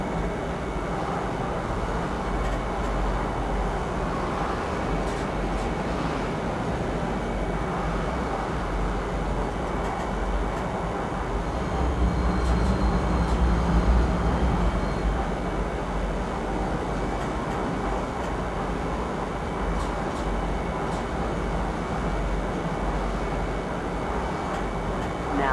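A metro train ride in the video game Star Citizen gives a steady, close rumbling roar of rolling carriages that swells slightly midway, with faint ticks and occasional quiet voices underneath.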